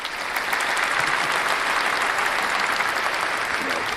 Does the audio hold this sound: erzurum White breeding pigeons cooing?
no